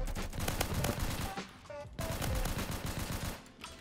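M1911 pistol gunfire in the Roblox shooter Phantom Forces, a rapid cluster of sharp game shots with a brief gap midway, then more bursts, set against busy in-game noise.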